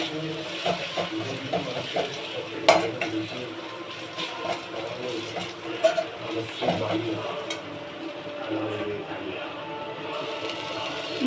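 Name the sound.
stirring turmeric powder in a frying pan while cooking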